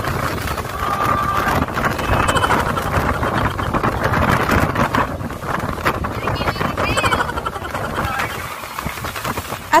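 Strong outdoor wind buffets the microphone on a seaside trip in Zambales province, a loud, uneven rumbling roar that gusts and fades throughout the clip.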